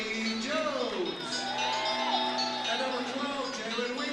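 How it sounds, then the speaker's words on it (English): A crowd applauds and cheers steadily as a team is introduced at a high school basketball game, Tri-Cities vs. McEachern, with an announcer talking over the continuous noise of the stands. "So Bulldogs will be announced first, to plenty of applause"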